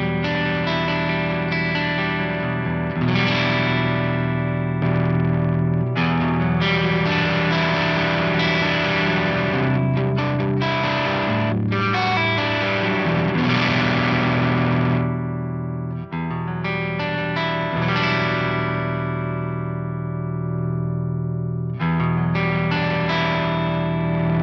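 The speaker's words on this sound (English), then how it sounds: "There's also a two-way switch on here to give you slightly different flavors out of it." An electric guitar plays through a Crazy Tube Circuits Hi Power Hiwatt-style overdrive pedal, producing driven, sustained chords and riffs with brief pauses between phrases and no talking.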